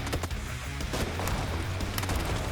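Gunfire in the PUBG video game, several quick sharp shots in bursts over a low rumbling backdrop, loud and near.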